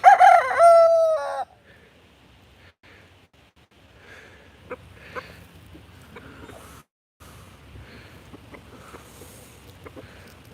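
A rooster on a rare fruit farm crows loudly once at the start, then only faint, sparse clucks and soft rustling follow in near quiet.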